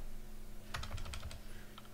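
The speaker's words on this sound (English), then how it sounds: "So I'm going to type get random number." Keys clatter on a computer keyboard in a short, quiet burst of quick typing over a low steady hum, with one or two final taps at the end.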